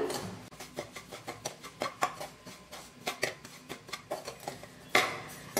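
About a cup of rice semolina dry-roasting in a kadai, stirred with a metal spoon: a steady run of light clinks and scrapes against the pan, fairly quiet and close, with no voice.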